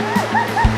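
River water flowing at Sungai Congkak, a steady rushing wash close by, with voices talking over it.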